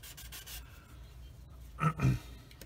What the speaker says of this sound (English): I'm sanding the entirety of this piece along the side here